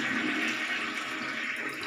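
A newly installed toilet with bidet flushing steadily, a continuous rushing of water heard up close with no voices.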